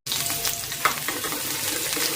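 Chopped garlic and green chilies dropped into hot oil with cumin for aloo matar, a close, steady crackling sizzle with a brief stirring clink, no talk.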